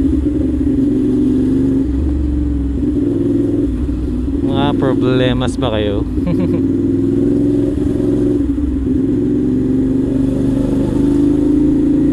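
A CFMOTO 450SR motorcycle rides on a public expressway, its engine a loud, close rumble that swells as it revs, with a brief tonal burst midway and someone talking over the drone.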